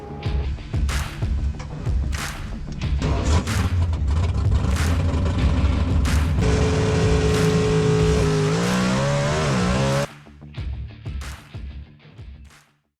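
Dodge SRT Hemi Challenge drag race cars roar at the NHRA US Nationals, loud engines revving and accelerating in sustained bursts before cutting off, with trailing crowd and track noise.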